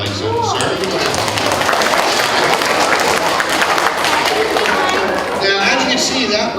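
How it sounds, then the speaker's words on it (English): A children's school audience claps and cheers loudly and steadily after a magician's rabbit-from-a-hat trick, a dense continuous wash of applause with crowd chatter mixed in. "You can clap if you like so"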